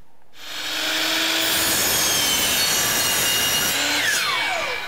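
A power saw bites into wood framing stock for a pocket door rough opening, a single loud continuous cut of about four seconds that spins up and then winds down, close and with no speech.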